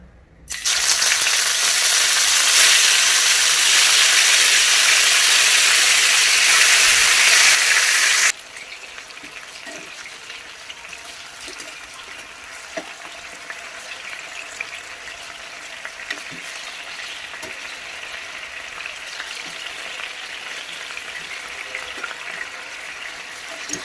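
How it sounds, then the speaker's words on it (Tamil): Fish pieces shallow fry in oil, starting with a loud, bright hiss for about eight seconds, then dropping to a softer, steady sizzle with faint crackles, no voices. "டீப் ஃப்ரை பண்ணக்கூடாது, ஷாலோ ஃப்ரை தான் பண்ணணும்"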